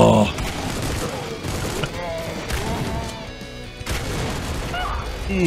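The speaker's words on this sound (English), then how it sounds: "Oh, triple shot." Triple-shot gunfire in the video game Supplice: sharp, meaty blasts at intervals through the clip, mixed with game effects while a player talks over them.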